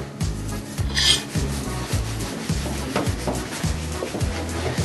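A knife saws back and forth through a soft yeast cake in a steady rhythm of short, rasping strokes, close up with no talking.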